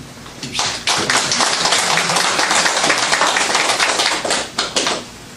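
Loud, dense applause from a Presbyterian church congregation at a New Year's Eve into New Year worship service, starting quietly, swelling after a moment into sustained full clapping, then tapering near the end.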